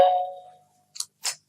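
A single doorbell ding decays quickly, followed by two soft brushing clicks, close and isolated.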